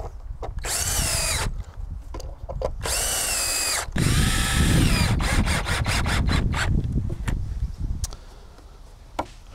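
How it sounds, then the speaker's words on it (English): A power drill drives 3-inch off-the-shelf exterior decking screws into a wooden salt marsh boardwalk frame, with several bursts of whirring motor and rattling, then a quick series of short stop-start pulses before going quiet. "The screws we're using today are just off-the-shelf decking screws, but they are for exterior use."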